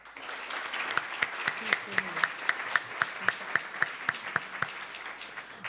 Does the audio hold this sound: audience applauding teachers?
yes